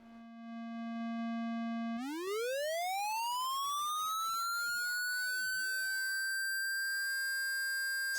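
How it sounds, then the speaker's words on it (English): Synthesized tone with a steady buzz that rises into a sweep, while aliased partials fold over and cross in warbling up-and-down chirps. It sounds harsh and alone, then settles on a steady held tone. "So it's the aliasing that makes this sound horrible."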